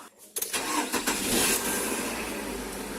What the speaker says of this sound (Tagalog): So wala ako nakukuha sa sa engine, pero gagawin ko i-start ko.